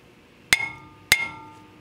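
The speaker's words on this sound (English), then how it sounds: "Tap it from the back." Two sharp metallic hammer taps on a stuck brake rotor, struck from the back to free it from the hub, each a loud ringing clang about half a second apart, with a short decaying ring after each.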